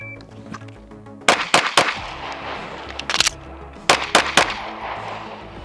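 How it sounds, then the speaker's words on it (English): Canik SFx Rival pistol fired in two quick strings of three sharp, loud shots each, separated by a brief pause for a magazine reload, over steady background noise outdoors. "I rushed my shots after the reload and just threw one just outside"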